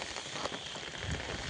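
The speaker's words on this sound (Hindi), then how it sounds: "ये देख वर्षा पानी थे खेत के भरी जाइए पूरा परिपूर्ण हो जाए।" Steady rainfall pours down over fields in rural Odisha, a dense, continuous hiss and patter filling the whole moment without pause, close and fairly loud, with no voices.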